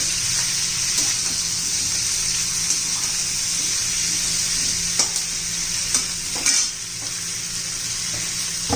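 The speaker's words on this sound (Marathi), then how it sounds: "शिमला मिरची चांगली परतून घ्यायची चांगली दोन एक मिनिट तरी" Bell peppers sauté in a pan with a constant close sizzle and scraping stirs from a spatula, steady throughout with no talking.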